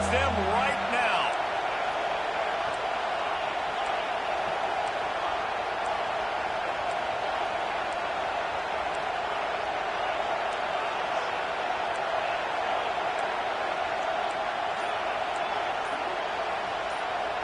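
A football stadium crowd roars steadily and loudly throughout, cheering on the defense, with a commentator talking over the din.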